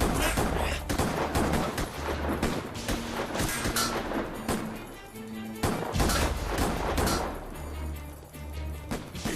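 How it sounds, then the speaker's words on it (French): Heavy gunfire from a man shooting at police, a loud dense barrage of shots with brief lulls, sharp cracks and echoing bangs filling the whole stretch. "Il est en train de tirer sur les policiers"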